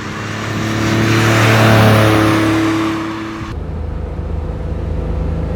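A 1971 Fiat Dino 2400 Spider with Ferrari-derived engine revs hard and accelerates, the note swelling loud and steady before cutting to a lower, rougher idle-like rumble; no one speaks.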